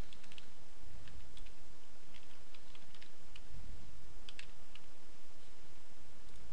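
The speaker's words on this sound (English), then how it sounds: "just type in the URL here" Fast, light clicks of a computer keyboard as a URL is typed, scattered taps in short bursts, faint and close, over a steady background hiss.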